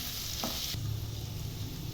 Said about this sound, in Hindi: अब हम डाल रहे हैं इसमें प्याज और प्याज को थोड़ा सा गोल्डन ब्राउन होने तक पकाएंगे।